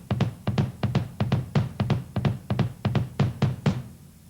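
Rock drum kit bass pedal worked in a steady endurance pattern, a quick run of close, punchy thuds in repeating groups of strokes, played alone and ending in a brief quiet tail.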